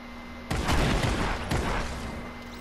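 Sniper rifle fire in a Fortnite Battle Royale duos match: two sharp, loud broadband shots about a second apart, each trailing into a rumbling decay over steady game ambience, with no talk.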